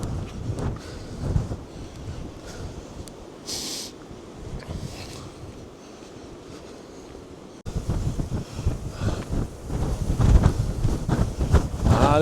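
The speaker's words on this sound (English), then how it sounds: "Very windy indeed." Strong wind buffeting the microphone on a sea coast where a whale is being watched, a steady roar that surges louder in the second half with gusty bursts and possible surf underneath.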